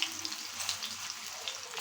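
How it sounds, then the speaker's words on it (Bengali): Pieces of chicken tikka fry in a pan, giving a quiet, steady sizzle with a few soft crackles. "আমার এখানে টিকাগুলো এক পিস ভাজা হয়ে গেছে"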